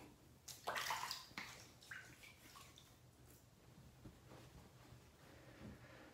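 Water splashes faintly at close range as a face is wetted before a shave with a Rockwell 6S double-edge razor, a few quick splashes and drips followed by quieter trickling.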